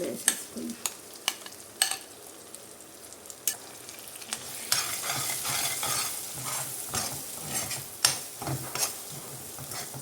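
Ground tomato chutney is tipped into a hot pan and stirred, with repeated sharp spatula scrapes and knocks over a rising, crackling sizzle, close and without speech.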